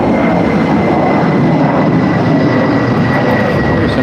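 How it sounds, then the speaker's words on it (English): Airplane taking off near an airport, heard as a loud, steady broadband engine roar with a faint whine, continuous throughout with no talking. "There's another plane taking off."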